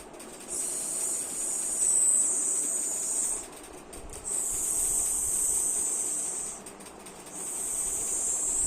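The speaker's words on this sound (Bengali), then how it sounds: "বোয়াল মাছটা ভেজে নাও।" Boal fish frying in hot oil in a kadai gives a thin, high hiss that swells in three long surges with brief quiet gaps between them, fairly faint and steady.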